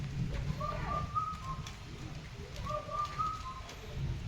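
Small birds come down to feed at a street spot, giving two short whistled call phrases about two seconds apart over a steady low background rumble.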